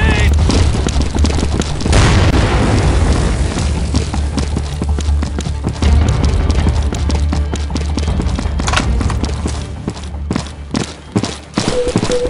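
Grenade explosion in a Counter-Strike mod, with heavy rumbling booms and a dense crackle of shots and impacts that stay loud and continuous, thinning slightly near the end.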